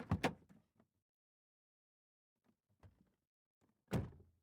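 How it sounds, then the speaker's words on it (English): The rear door of a van is shut with a dull thunk, followed by a few faint shuffles and a louder closing thud near the end. "opens the rear door for Carter to get in, closes it"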